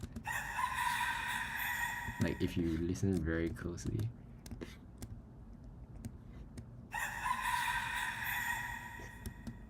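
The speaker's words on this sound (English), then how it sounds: "let me just use this opportunity to sample the chicken sound" A recorded sample of chickens crowing plays back in Logic Pro, a long harmonic crow at the start and another near the end, with someone speaking briefly in between and faint clicks.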